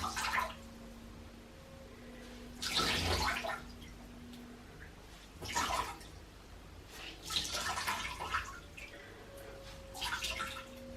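Water dripping and splashing in bursts from a wet knitted reversible tube cowl being gently squeezed by hand over a basin, several short wet pulses separated by quieter pauses, close and alone.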